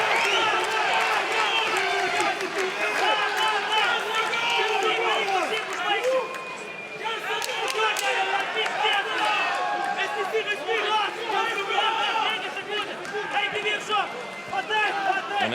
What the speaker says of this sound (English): just as a crowd giving a little bit of voice, getting behind the French fighter